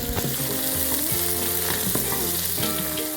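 Cut onions fry in a pan in a loud, continuous sizzle, close up, with stirring scrapes mixed in and no voices.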